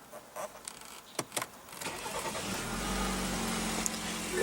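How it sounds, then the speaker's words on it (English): A 2016 BMW X3's 2-liter twin-turbo inline four-cylinder is push-button started after a few quiet clicks, cranking briefly and then settling into a steady, fairly quiet idle heard from inside the cabin. "what you're hearing there is BMW's 2-liter twin-turbo inline"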